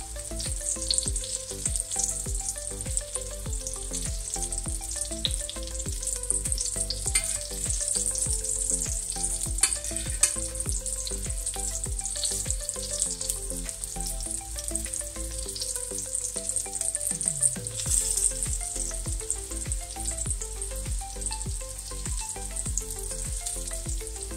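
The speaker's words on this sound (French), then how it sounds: "plus l'huile est chaude et plus ça va cuire rapidement" Meatballs fry steadily in hot oil, a dense, constant sizzling crackle that runs close and loud throughout with no voices.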